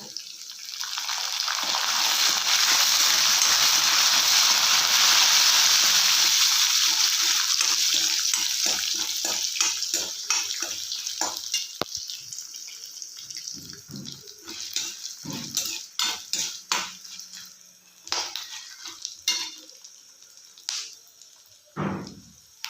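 Curry leaves dropped into hot oil with chana dal and peanuts for North Karnataka-style chitranna, giving a loud sustained sizzle that fades, followed by scattered clinks and scrapes of stirring in the pan.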